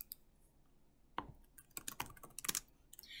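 Computer keyboard typing with a few sharp, irregular key clicks close by, quiet at first and then in quick bursts, with no talk.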